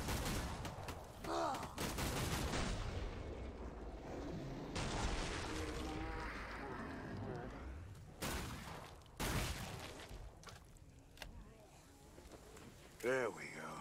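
Gunfire in the Killing Floor 2 video game, with bursts and rapid shots from a sharpshooter mixed into a dense, noisy battle, and voices talking over the action.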